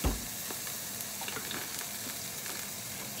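Tofu frying in a pan, a steady close hiss of oil sizzling with small crackles and pops throughout, no one talking.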